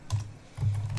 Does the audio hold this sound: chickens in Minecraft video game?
no